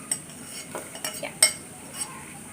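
A spoon stirring a herbal drink of roselle and carambola flowers in a pot, with several light scrapes and clinks of metal against the pot spaced irregularly, quiet and close.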